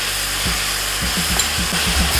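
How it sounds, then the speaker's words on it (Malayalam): A spoon stirs sauces through a pan for chicken fried rice, with repeated soft knocks and scrapes in an uneven rhythm over a steady loud hiss of frying, close up and free of speech. "ഒന്ന് മിക്സ് ചെയ്യുക."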